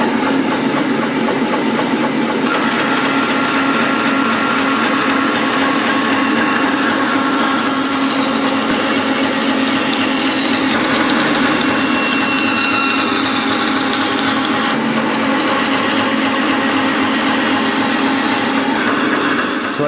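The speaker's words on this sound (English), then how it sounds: "So I just sawed through this piece of cherry and have a 1/8 inch thick strip" A Stallion 15-inch bandsaw from CWI cuts through cherry wood, a steady, loud motor whir with blade hum holding evenly for about twenty seconds, with no talking.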